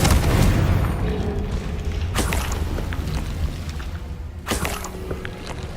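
Two heavy booming blasts from the Confringo explosion spell in Hogwarts Legacy, each a sharp loud burst with a rumbling tail, spaced a couple of seconds apart over a continuous low roar of game ambience.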